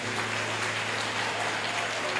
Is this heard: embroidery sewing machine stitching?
no